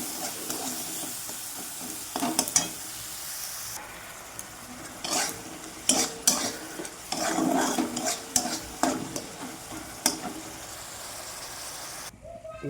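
Masala spice paste with a little water is stirred and fried on low heat for an oily tilapia dish, with repeated scraping spoon strokes over a soft, continuous sizzle close by.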